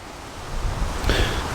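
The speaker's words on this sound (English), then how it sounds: "And then we also have water flowing out over the dam" Creek water spills over a small dam in a continuous rushing wash that swells louder partway through, heard close by with no voices.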